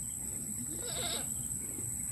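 A mother goat on a goat farm gives one short bleat against a steady background hum, at moderate distance.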